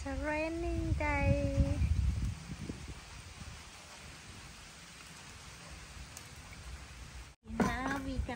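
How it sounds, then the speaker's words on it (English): Steady rain falls at a farm in Sakon Nakhon, Thailand, a soft continuous hiss of drops beneath the start and end of the clip, where a voice is heard speaking. "Raining day."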